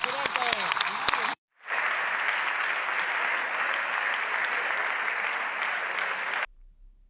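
Sustained applause fills a parliamentary chamber, loud and steady for about five seconds after a brief cut, with a short burst of clapping just before the gap.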